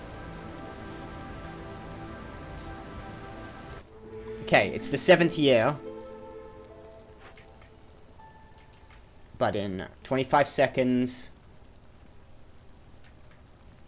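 Steady pattering storm rain falls in the Against the Storm video game, a continuous even patter heard alone at first, then under two bursts of a man's speech.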